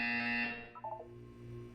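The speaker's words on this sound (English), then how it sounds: "You will hear a buzzer" A loud electronic buzzer tone in the video game Portal 2 sounds alone for about half a second, then cuts off to a low ambient game hum with a few soft synthetic blips.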